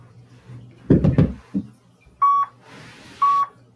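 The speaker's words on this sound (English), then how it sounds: "Listen for the beeps." Two short electronic workout timer beeps sound a second apart, preceded by a few soft knocks and shuffling in a quiet room.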